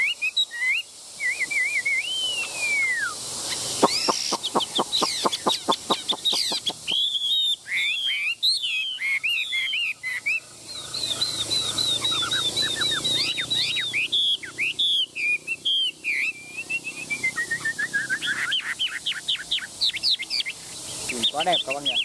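A caged songbird with a yellow beak and glossy head sings loud, close whistled phrases and rapid chirps, with trills and pauses between bursts, continuing for the whole stretch.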